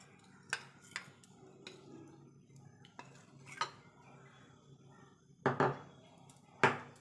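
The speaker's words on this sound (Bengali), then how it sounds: "যতবার ব্যাটার দেবেন ততবার কিন্তু এইভাবে হাতা দিয়ে কিন্তু গুলিয়ে দিতে হবে" A ladle mixing patishapta batter in a bowl, giving a few scattered light metallic clinks and scrapes close by, with two louder knocks near the end.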